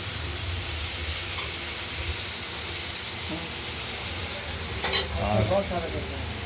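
Cauliflower florets fry in a pan for a potato-cauliflower curry, giving a steady close sizzle throughout with a brief stirring scrape near the end.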